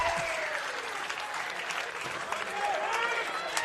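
A softball crowd claps steadily in appreciation after a game, moderately loud and continuous, with a commentator's voice and a few whistles or shouts rising over it.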